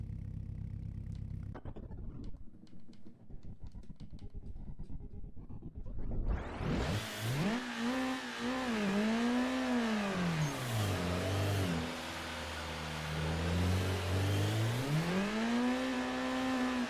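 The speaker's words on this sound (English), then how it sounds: "This car sounds so weird in low revs." Race car engine in the Assetto Corsa driving game revving loudly with a turbo setup, starting after a quiet stretch and rising and falling in sweeping pitch through gear changes, running continuously near and loud.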